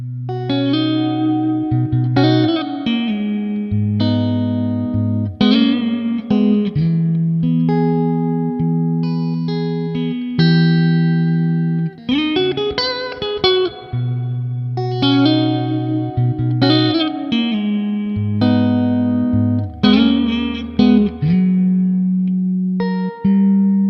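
Clean Stratocaster electric guitar in the fourth pickup position, with a bright, slightly hollow tone, plays funky chord stabs and short riffs, steady and continuous with no talking.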